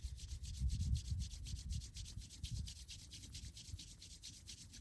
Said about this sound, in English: Rub our palms together.